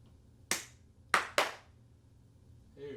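Three sharp hand claps ring out, one alone and then two in quick succession, close and crisp against a quiet room, struck to sync audio before a talk show recording.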